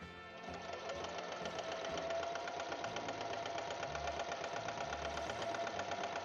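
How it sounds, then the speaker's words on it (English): Sewing machine stitching straight rows along quilt panels, a fast, steady mechanical chatter that runs continuously at low volume with no talking. "we're just stitching straight down the row to hold all of this in place"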